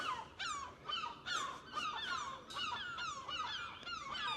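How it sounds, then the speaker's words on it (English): Seagulls call agitatedly and repeatedly in overlapping, excited cries, fairly loud and continuous, stirred up by a hawk flying nearby over a tidal harbour area. "We were wondering why we could hear loads of seagulls and why they're all going a bit nuts"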